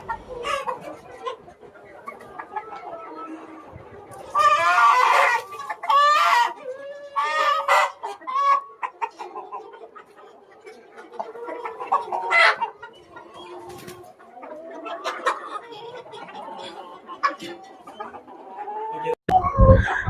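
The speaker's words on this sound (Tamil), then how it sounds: "இப்போ பார்க்குறது பார்த்தீங்கன்னா அசல் கிராஸ் கோழிங்க" Aseel cross country chickens on a poultry farm cluck and call repeatedly at close range, with a few louder squawks and bursts among quieter chatter and occasional faint voices.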